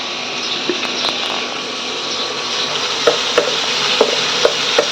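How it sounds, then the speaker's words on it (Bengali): Shrimp frying in a pan in a home kitchen, a steady broad sizzle running throughout with a few soft clicks and taps near the end, close and moderately loud, no talking. "চিংড়ি মাছটা ভাজা বসিয়েছি"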